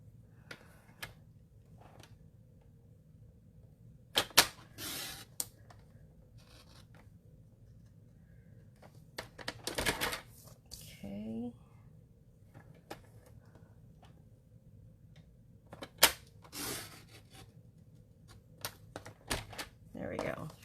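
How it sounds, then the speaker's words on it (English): Scissors snip through folded paper during a card-making project, a few short crisp cuts scattered among quiet handling noises, close and faint with spoken instruction around them. "cutting here so that I can just cut out the centers."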